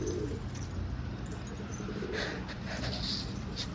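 Pigeons coo steadily in a coop holding four breeding pairs, a low continuous murmur of overlapping calls with a few faint higher chirps, close and moderately loud throughout.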